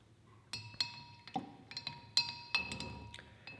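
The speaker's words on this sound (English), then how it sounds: "So we're going to give it one little more stir." A spoon stirs yeast slurry inside a glass carboy, producing a series of bright, ringing glassy clinks at irregular intervals, close and fairly loud, with no talking.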